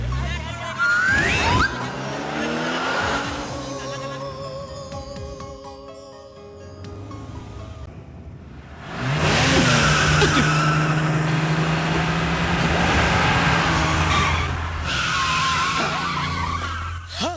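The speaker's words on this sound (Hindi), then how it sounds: "तुमने टाइम पे ब्रेक मार दिया वरना एक्सीडेंट हो जाता" A car brakes hard with tires skidding and squealing loudly, mixed with dramatic film-style sound effects and a brief pause, then a second long skid surges up.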